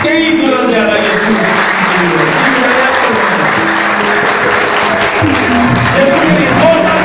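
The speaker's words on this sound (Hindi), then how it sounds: "अब यीशु के लिए जितनी तालियां मेरे लिए बजाएंगे उससे कई गुना ज्यादा यीशु" A congregation claps for Jesus at a church service, steady sustained applause filling the room with voices and cheering mixed in throughout.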